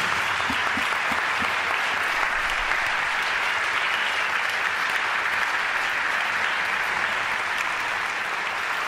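Applause from an audience of about five thousand people in a large hall, a dense steady roar of clapping sustained for the whole stretch, loud and even with no voices above it.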